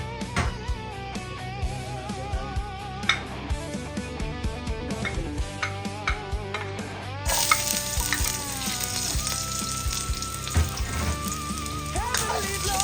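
Fried rice sizzles and crackles steadily in a pan for a breakfast dish, with sharp clicks of stirring and scraping throughout and music playing alongside.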